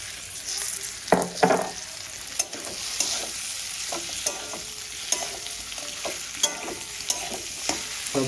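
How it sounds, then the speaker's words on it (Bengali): Katla fish head and potatoes frying in spices in a pan, a steady close sizzle broken by several scraping stirs and clinks of the spatula, with no talking. "মশলার সঙ্গে মাথাটা দিয়ে ভেজে নিয়েছি এবার আলুটাও দিয়ে দেবো"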